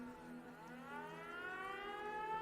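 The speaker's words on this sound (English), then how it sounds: "So it's a siren." A civil defense siren in Fallout 76 winds up into a rising, sustained wail, fairly quiet and distant, heard alone without any talking.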